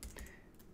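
Close, crisp keystrokes on a computer keyboard as a ping command is typed into an Ubuntu Linux terminal, a quick run of a few clicks.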